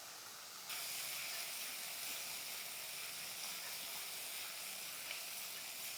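Finely chopped palm fruit (nungu) going into a pan of softened small onions and masala powder, a faint steady hiss of sizzling that starts abruptly and continues evenly.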